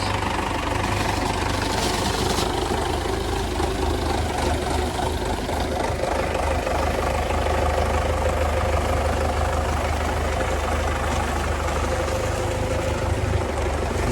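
A Belarus MTZ-82 tractor's diesel engine idles steadily nearby, a loud continuous low rumble with a slight knocking throb that holds even throughout, no voices.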